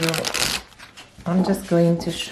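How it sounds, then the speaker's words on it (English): Cards being shuffled in quick riffling bursts, close by, with a voice talking over parts of it. "they have a nice bend, so they shuffle quite well"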